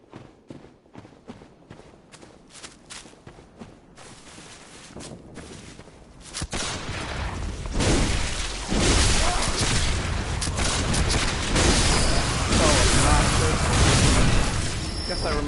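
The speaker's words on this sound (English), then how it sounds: "There's a bunch of people shooting at you in this area." Enemies fire on the player in a forest area of the video game Bloodborne. After a quieter stretch, dense, continuous rapid gunfire and booming blasts build up and stay loud until the end.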